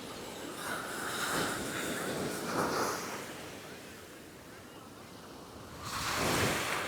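Atlantic Ocean surf rolls in at Long Beach, New York as a broad, continuous wash with swells rising and falling, mixed with wind buffeting the microphone.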